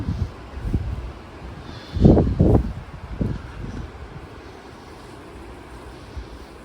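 Strong wind blows outdoors in the English countryside on a wet, rainy afternoon, a continuous rushing roar with buffeting gusts on the microphone, swelling loudest midway before easing back to a steady bluster.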